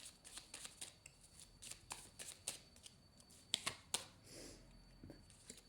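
A deck of tarot cards is shuffled by hand in quick riffling bursts, a dozen or so crisp rapid flutters and snaps at close range, fairly quiet and irregular in rhythm, with no voices.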